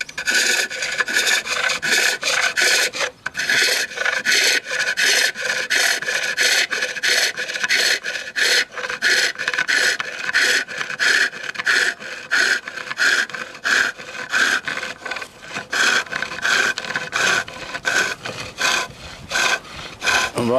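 A skew chisel cuts wood on a spinning lathe, producing a continuous loud, close, rasping shave with a rapid pulsing texture, running steadily for about twenty seconds without talk.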